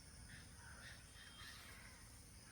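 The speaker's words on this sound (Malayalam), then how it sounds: "നിങ്ങൾ ഇവിടുത്തെ കിളീൻ്റെ ശബ്ദമൊക്കെ കേൾക്കുന്നുണ്ടോ?" Crows caw repeatedly outdoors, faint and somewhat distant, over a steady wash of background noise with no talking.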